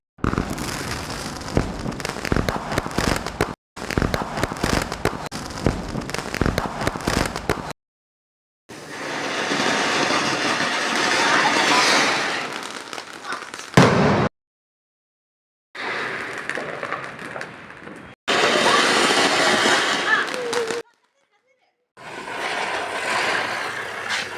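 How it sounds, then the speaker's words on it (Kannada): Small firecrackers burst during Deepavali celebrations in Bengaluru as a family sets them off, in loud, dense crackling volleys of rapid pops separated by abrupt silent gaps. "ಇನ್ನು ನಾವು ಚಿಕ್ಕ ಪಟಾಕಿ ಎಲ್ಲ ಹೊಡಿಯೋಕೆ ಹೋಗ್ತಾ ಇದ್ದೀನಿ"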